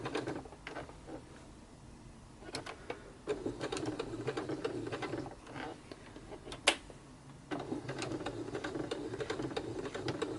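A sewing machine stitches through two layers of fabric for making fabric flowers, producing a quiet, rapid mechanical ticking in uneven runs. The runs come in bursts that speed up and pause, with a few sharper clicks between them.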